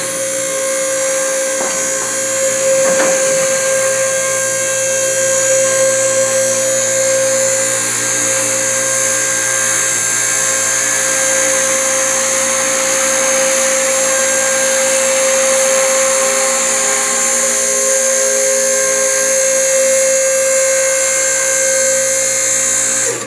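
A steady, loud whine of a lift or compressor-driven motor runs continuously while a drift truck is raised, holding an even drone with a few faint metallic knocks near the start and no talking.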